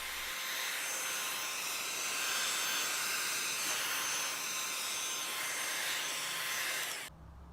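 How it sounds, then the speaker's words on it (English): A heat gun blows on the faded black plastic front grill of a 1996 Sea-Doo GTI, a loud, steady, close airy roar held for about seven seconds before it cuts off abruptly into quiet room tone. "the heat gun will do a good job on that as well."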